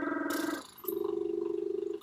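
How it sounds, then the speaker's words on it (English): Lips buzzing in a lip trill, practised as a trumpet warm-up, giving two short steady buzzing tones, close and fairly quiet, with a brief pause between them. "So can you do a lip trill like"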